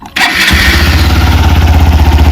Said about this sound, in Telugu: సో ఒకసారి అయితే మనం బైక్ ఎగ్జాస్ట్ సౌండ్ ఎలా ఉందో చూద్దాము.